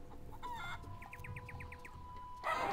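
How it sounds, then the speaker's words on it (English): Video game Curse of Monkey Island: a feral chicken gives a quick run of about seven short clucks over a steady background hum, then a sudden louder burst of noise at the end. "there's a chicken. A feral chicken."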